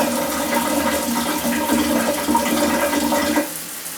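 Water rushes steadily through a HammerHead shower head filter during its initial flush, a dense continuous spray lasting several seconds at close range before tapering off near the end.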